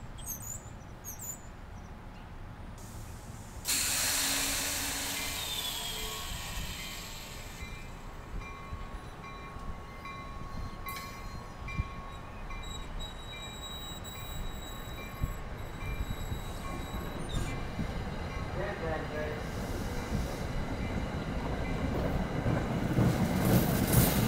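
A New Jersey Transit train, number 3252, passes through Little Silver, New Jersey, with a broad rumbling roar that builds and then holds. Faint ringing tones and light rhythmic clacking sound along the passage, and no one speaks.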